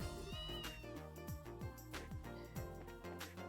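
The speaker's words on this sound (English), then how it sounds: "Oh my god, I have a cat in my party!" A cat meows in the Trails in the Sky video game, its cries sounding over steady game background music with a repeating rhythmic pattern, clear but not overpowering.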